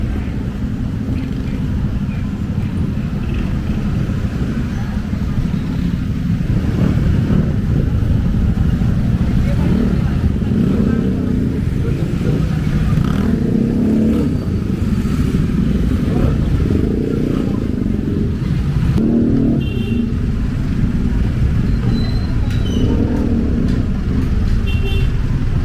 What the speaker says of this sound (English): Heavy traffic. That's why today I use motorcycle.